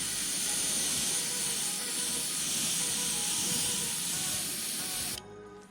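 Airbrush gun spraying patina paint on an Early Bronco, a close steady hiss of air and paint holding for about five seconds before cutting off abruptly.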